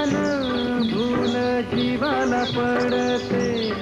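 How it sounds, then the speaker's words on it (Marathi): Many birds chirp and trill steadily in overlapping calls, a dense chorus of bright, warbling song with no voices. "पक्ष्यांचे आवाज वगैरे"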